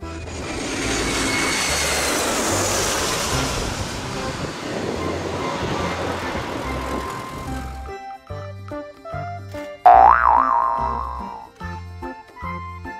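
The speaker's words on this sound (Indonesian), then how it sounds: "Pesawat." A toy airplane gives a loud, steady whooshing jet roar for several seconds, then switches to short electronic musical notes and chimes.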